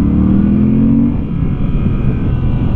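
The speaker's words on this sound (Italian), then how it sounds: "E allora sto motore, sentilo qua." Moto Guzzi V7 850 Centenario motorcycle engine running close by, a loud low rumbling throb that holds a steady tone and then settles into a rough, even idle, with no talk.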